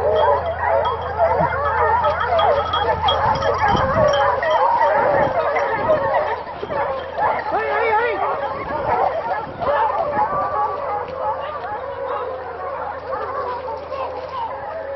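Hunting dogs bark and yelp on a wild boar hunt in the Doubs, a loud burst of barking early on giving way to more distant, scattered cries over continuous talk from people nearby.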